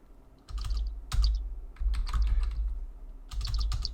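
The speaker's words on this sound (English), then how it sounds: "Damn, I can't type." Fingers tap on a computer keyboard in several quick bursts of close, crisp clicks, separated by brief pauses.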